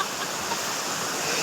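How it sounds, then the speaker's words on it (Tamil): A waterfall with heavy flow, giving a loud, continuous roar of rushing water with a faint voice briefly underneath. "அந்த வேலை நல்ல அருவியில் செம தண்ணி போயிட்டுருக்கு"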